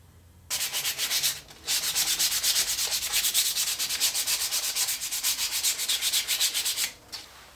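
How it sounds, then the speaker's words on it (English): Steady rhythmic sanding on wood, quick back-and-forth rasping strokes close by, with a brief pause early on and another near the end. "Sand everything up."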